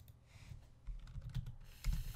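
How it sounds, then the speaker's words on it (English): Clicking keys on a computer keyboard during a Sonic game session, a run of quiet, uneven taps with a few louder clusters of presses, close by, with no talking. "I'm clicking buttons here"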